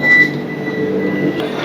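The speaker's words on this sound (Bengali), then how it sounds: "दरवाजे बाईं तरफ खुलते हैं।" A Vande Bharat train's doors slide open at a station, a brief muffled mechanical rumble over a steady hum, close by with no speech.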